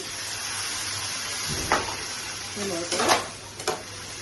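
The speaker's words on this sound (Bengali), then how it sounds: "এখন আমি ছোলাগুলো দিয়ে দিচ্ছি, সিদ্ধ করে রেখেছি, দিয়ে দিচ্ছি। জল দিয়ে দিচ্ছি" Boiled chickpeas and water going into a hot pan for ghugni, a steady low sizzle broken by a few short splashing and scraping bursts toward the end.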